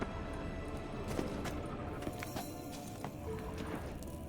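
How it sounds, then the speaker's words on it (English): In The Witcher 3, the horse Kelpie clip-clops along at a walk, its hoofbeats faint and regular under a dense low background wash of game ambience. "Another horse."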